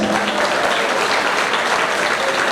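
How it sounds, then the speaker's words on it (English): Loud, steady applause from an audience of teachers and students at a school event, dense clapping filling the whole span with no break. "this choreography does deserve a loud round of applause"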